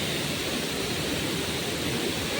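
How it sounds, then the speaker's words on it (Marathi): Lots of water rushing out in a heavy, waterfall-like flow, a loud, steady broadband roar that holds unbroken and close throughout with no voices. "गाईस तुम्ही बघू शकता खूप पाणी सुटलेलं आहे."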